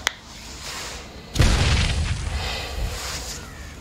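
A moon-explosion sound effect: a faint click, then a sudden deep, heavy boom that rolls on as a long rumbling tail, slowly fading.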